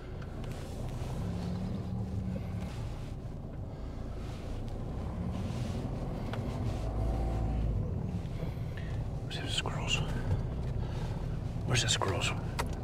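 A vehicle drives across garden grounds, its engine and tyre rumble running continuously with wind buffeting the microphone, and people talk over it.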